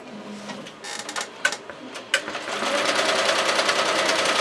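An embroidery machine stitches out a tote bag design, starting with a few sharp clicks and thumps before settling into a steady, loud, rapid mechanical chatter of the needle.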